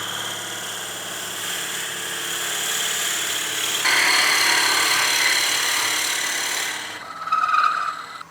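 A Forstner bit bores into wood held on a lathe during the turning of a snowman oil candle, a steady whirring grind with a low mechanical hum that rises in pitch partway through and shifts near the end.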